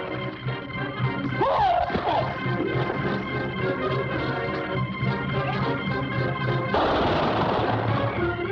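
Gunshots ring out in a classic western TV show, sharp reports over a dense bed of dramatic orchestral music that swells toward the end.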